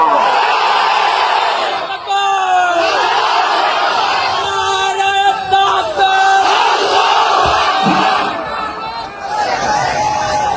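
A large crowd at a religious rally in Bangladesh chants slogans in loud unison, with a leader's voice calling out lines and the mass of voices responding in repeated bursts.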